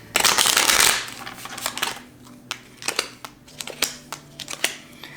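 Tarot cards get a brisk riffle shuffle, a loud rush of flapping paper, followed by a run of sharp snaps and taps as individual cards are pulled and laid down, close up with no talking.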